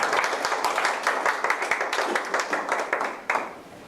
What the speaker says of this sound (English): So let's give him a warm applause.